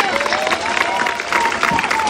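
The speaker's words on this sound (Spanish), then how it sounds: "Aplauso para ustedes." A crowd at a political rally applauds and cheers, with a dense mix of clapping and voices throughout. A steady tone runs underneath, and the sound is loud and close.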